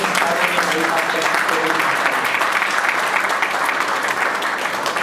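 An audience at a memorial award ceremony breaks into full, sustained applause, a thick continuous wash of clapping at steady loudness from start to finish.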